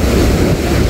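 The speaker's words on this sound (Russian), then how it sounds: "О, сегодня волна большая, смотри." Large sea waves break on a winter shore at Sochi, a loud, steady roar of surf with wind buffeting the microphone.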